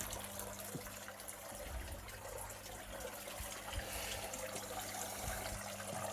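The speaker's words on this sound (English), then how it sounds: "I hope you can hear me then with the sound of the water in the background." Water flows and trickles continuously in a koi pond, a soft steady splashing rush with a faint low hum underneath.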